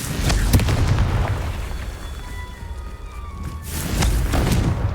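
Confringo blasting-spell explosions in the Hogwarts Legacy video game land as deep, rumbling booms at the start and end, with a quieter tonal magical shimmer between them and no speech.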